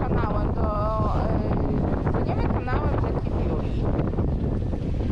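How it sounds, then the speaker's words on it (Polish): Strong wind of about 24 knots roars over the microphone aboard a sailing boat, with rushing, churning water and a constant loud buffeting; faint voices come through briefly. "mamy 24 węzły wiatru, troszkę nam tutaj kipi ta woda."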